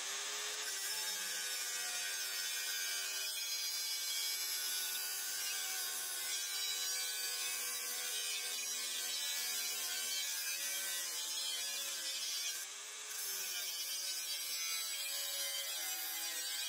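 A power tool cuts through trailer inner frame parts in a steady, continuous rasp that holds for the whole stretch, briefly easing once near the end, close and fairly loud with no talking.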